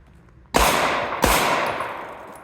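A pair of close, loud gunshots fired in quick succession during recoil-control practice, each a sharp crack with a ringing decay.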